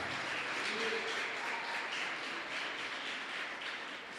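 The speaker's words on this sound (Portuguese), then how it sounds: "Você pode aplaudir o nome do Senhor?" A church congregation applauds in a dense, steady wash of clapping that holds at an even level throughout and fades slightly at the end.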